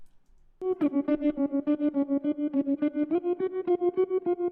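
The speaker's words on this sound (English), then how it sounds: "which has like some slow tremolo. The panning motion comes from this plugin called Brower Motion." Music processed with a slow tremolo from a Helix unit and a sweeping pan motion from a Brower Motion plugin, so sustained tones throb in a steady, even pulse after a brief silent start.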